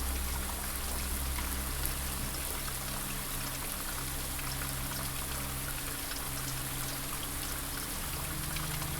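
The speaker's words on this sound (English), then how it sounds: "There's the sound of water." A sprinkler system runs in the game Blue Prince, a steady broadband hiss of spraying water that holds at an even level throughout over a low background hum.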